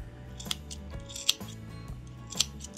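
Scissors snipping yarn doll hair, three crisp metallic cuts spaced about a second apart, close and clear over faint background noise.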